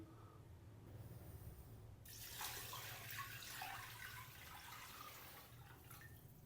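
Water poured in a steady, rushing stream into a cooking pot holding half a kilo of chicken for chicken soup, close and continuous for several seconds after a quiet start, with no talking.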